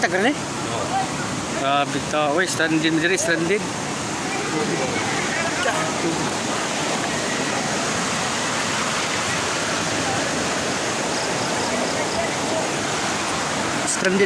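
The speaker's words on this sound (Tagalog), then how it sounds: "Grabe, ang lakas ng tubig galing sa bundok." Powerful floodwater rushing down from a mountain roars steadily throughout, a broad continuous torrent, with brief voices heard near the start.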